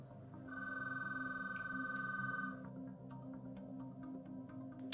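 A phone rings nearby with a steady electronic trill that stops partway, then soft game sounds continue at low level.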